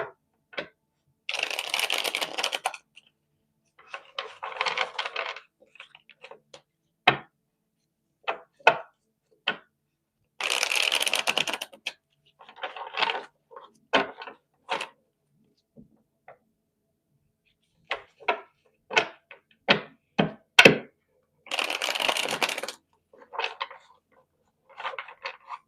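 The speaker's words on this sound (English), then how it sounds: "Last shuffle." Playing cards are shuffled in several quick riffling bursts, with scattered taps and clicks of cards being squared between them, close and clear.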